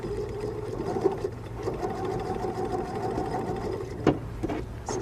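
Sewing machine fitted with an open toe foot stitching quilt pieces, a steady close whirring hum running throughout with a couple of sharper clicks near the end, no talking.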